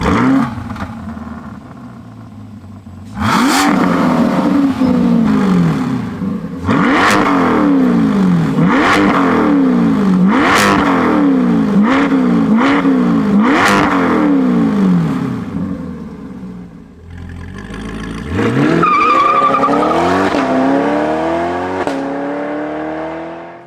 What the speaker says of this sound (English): Let's fire up this Lingenfelter C8.